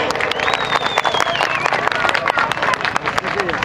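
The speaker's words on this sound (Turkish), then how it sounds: "şöyle canı gönülden, yürekten bir alkış istiyorum" A crowd claps and cheers at a village highland festival outdoors, noisy, with babble and a high whistle-like tone cutting through.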